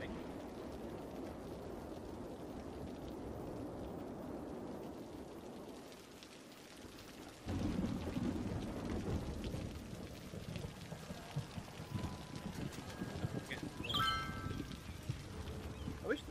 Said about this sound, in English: I wish the rain would stop, please.